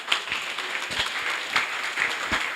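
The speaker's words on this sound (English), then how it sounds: "Give her a round of applause" Audience applause for a participant at a gathering: a steady wash of many hands clapping, moderately loud and even, with a few sharper claps standing out.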